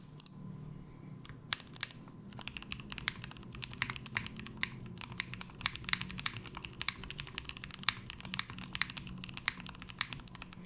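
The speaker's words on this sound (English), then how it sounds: "Okay, I barely started and it feels like a different keyboard sound-wise." Typing on an Instant60 mechanical keyboard, a quick irregular run of crisp key clacks at close range, fairly quiet and continuous with no talking.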